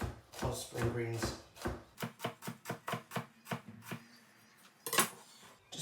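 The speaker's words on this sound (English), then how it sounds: "begin to slice as thin as possible." A kitchen knife slices spring greens into thin ribbons on a cutting board, giving a quick run of evenly spaced, crisp chopping taps, with a voice speaking near the start.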